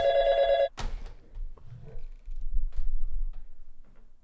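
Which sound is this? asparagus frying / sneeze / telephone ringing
telephone ringing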